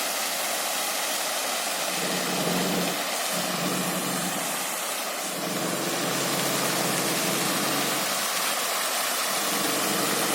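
Water flows steadily by a riverside embankment in Ternopil, a constant broad hiss and rush with no pauses and no voices.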